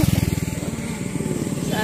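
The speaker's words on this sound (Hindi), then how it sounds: "पीछे से भाई जो बाइक आ रही ना, बत्ती जला जला के आ रही" A motorbike with its headlight on comes up from behind on an evening road, its engine putting out a loud, rapid putter close by for the whole stretch.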